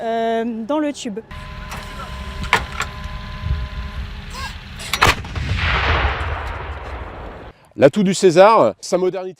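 A powerful blast from a Caesar self-propelled howitzer at the NATO exercise Dacian Fall 2025 booms, followed by a long rumbling roar and hiss as it fades, with a voice speaking Ukrainian before and after.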